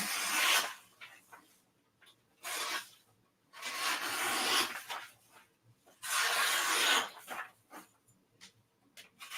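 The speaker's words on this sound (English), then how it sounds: "We're gonna trim it down." Sublimation transfer paper is trimmed for a pillowcase, with repeated raspy scraping and cutting strokes in bursts separated by short pauses, fairly close and moderately loud.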